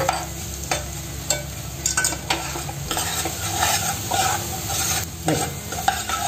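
Onion and tomato masala with chili powder fries in a pan for cowpea usal while being stirred, with a bright, sustained sizzle punctuated by repeated spoon scrapes and knocks against the vessel.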